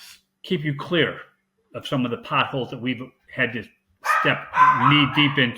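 A dog barks several times in the background while someone talks steadily in the foreground, the barks partly masked by his voice.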